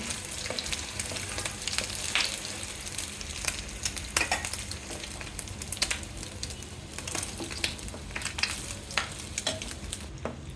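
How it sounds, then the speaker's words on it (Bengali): An egg fries in a pan with a continuous crackling sizzle, and frequent sharp spatters and pops rise and fall throughout. "আমার ডিম ভাজা কমপ্লিট হয়েছে, একদম ফোলা ফোলা ডিম ভাজা"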